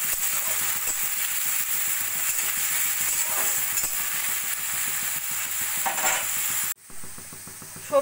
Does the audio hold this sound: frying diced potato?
yes